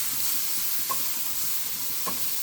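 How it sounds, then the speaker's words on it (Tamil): Coriander leaves sautéed in a pan with green chilli chicken give a steady, soft sizzle and hiss, with a couple of light clinks from the spatula against the pan and no talking. "கூடவே கொஞ்சம் கொத்தமல்லி போட்டு வதக்கிக்கிறேன்."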